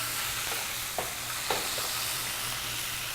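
White wine hitting a hot pan of roasting eggplant, a close, steady sizzle and spatter with a couple of brief sharper pops, no voices.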